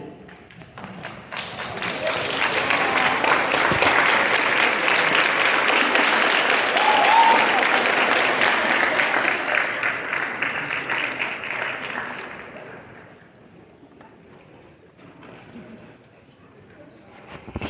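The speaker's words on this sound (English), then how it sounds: "Would you please stand and turn and applaud all of those who have been by your side with gratitude." Applause from an audience at a nursing pinning ceremony swells into a sustained roar of clapping for about ten seconds, then fades to scattered claps.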